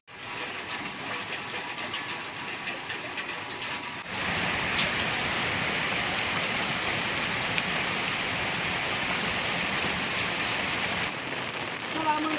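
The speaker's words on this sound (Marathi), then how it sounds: "आता पाऊस चालू आहे" Steady rain falls in a village, a dense even patter that swells noticeably louder after a few seconds and keeps up close by throughout.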